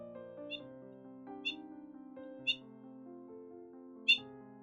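Four brief, high-pitched bird calls ring out at uneven intervals over a steady low tonal drone.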